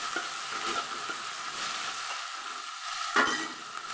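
Onion, tomato, ginger, garlic and green chili sizzle steadily in a hot pan, a continuous close hiss broken by a few scrapes and stirring knocks.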